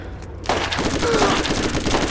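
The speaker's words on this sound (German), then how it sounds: "Also Combat Rifle mit sechs Schuss?" Rapid combat rifle fire in the Borderlands video game, a dense burst of gunfire that starts abruptly and keeps crackling steadily at high loudness, with no talk over it.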